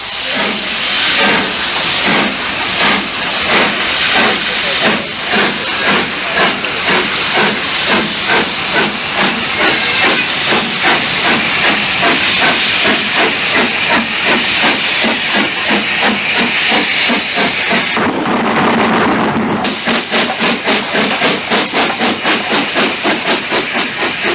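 A steam locomotive labouring out of York Station on a sharply curved exit, loud rhythmic exhaust beats and hissing steam driving on steadily for over twenty seconds, with a brief pause in the chuffing near the end.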